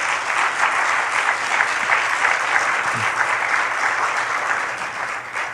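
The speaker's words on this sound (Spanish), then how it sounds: "Denle un aplauso al Señor" Church congregation applauding at a Spanish-language service, a steady dense wash of hand claps sustained throughout at a constant loud level, with no speech over it.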